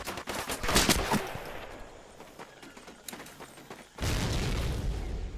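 A grenade explosion in the game Medal of Honor lands as a loud broadband burst with a rumbling tail, following earlier bursts of gunfire.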